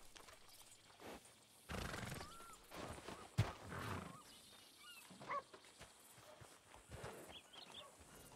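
A horse in the video game El Rancho RP whinnies and snorts with a few hoof clops, close and moderately loud, with brief stretches of quiet between the calls.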